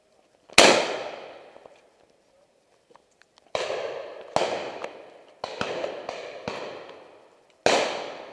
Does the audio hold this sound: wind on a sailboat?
no